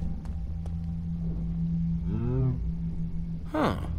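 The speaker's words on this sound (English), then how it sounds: "A cow?" Cow lowing in the Minecraft: Story Mode video game, one drawn-out harmonic moo in the middle of the clip over a steady low hum. A second short, rising call comes near the end.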